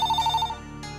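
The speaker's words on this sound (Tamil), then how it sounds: "ஃபோன் அடிக்கிறது பாருடா" A telephone rings in a home with a steady, repeating electronic trill that stops about halfway, followed by quieter room tone and a faint rustle.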